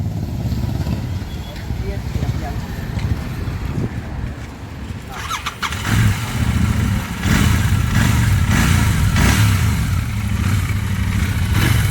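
A motorcycle engine idles and revs nearby, its low rumble rising and falling, with people talking over it.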